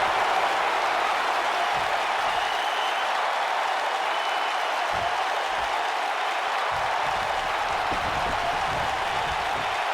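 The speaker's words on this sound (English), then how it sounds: "Another electric crowd on hand here for SmackDown" A large arena crowd at a SmackDown wrestling show applauds steadily, a dense, loud wash of clapping lasting throughout with no pause.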